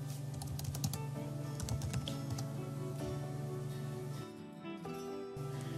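Rapid typing on a computer keyboard, a dense run of close, crisp key clicks with brief pauses, alone without talk.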